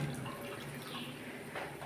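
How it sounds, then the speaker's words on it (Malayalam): Water is poured into a pan of fish peera with Kerala fish curry, a soft continuous trickling splash, close and steady with no voices. "ഇച്ചിരി വെള്ളം കൂടി ഒഴിച്ചു കൊടുക്കാം"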